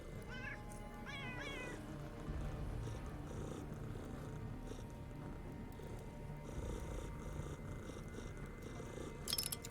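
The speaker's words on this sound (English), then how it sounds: "Yes, kittens, yes, purr." Cats in the video game Underrail purr in a steady low rumble throughout, with a few short meows near the start, heard close and moderately quiet over faint game ambience; no speech.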